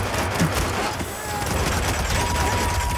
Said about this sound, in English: He kept shooting at your dead body at the ground.